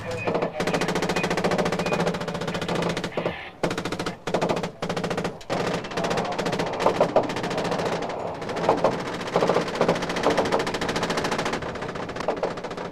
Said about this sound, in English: The soldiers went on firing to keep the streets empty and to deter a second attack.